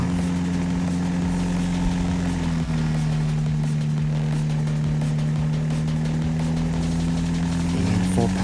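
A Cessna light aircraft's engine runs at a steady, loud drone as it builds for takeoff, a constant close propeller hum with a slight shift in pitch partway through.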